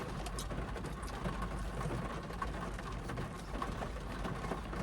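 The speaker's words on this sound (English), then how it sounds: "Let's just enjoy the sounds of rain and me eating" Soft, steady rainfall patters in the background, faint and continuous, with occasional small taps and a distant bird call, while someone eats an Italian sandwich on rosemary bread.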